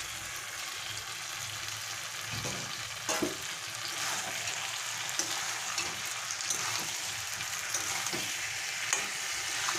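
Potatoes are stir-fried in a pan for a mutton fat curry, making a continuous bright sizzle broken by scraping strokes of a spatula at irregular intervals.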